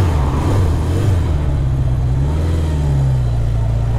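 A Honda CB750 Four motorcycle engine idles and revs nearby, a loud, deep, throbbing four-cylinder rumble with the pitch sliding up and back down as the throttle is blipped.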